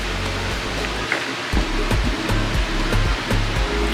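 Engine noise inside a boat's engine compartment: a steady, loud, close broadband roar with a low, rhythmic thumping pulse underneath, no voices.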